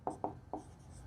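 A pen writes on paper during a maths lesson, three quick faint scratchy strokes close by in a quiet room.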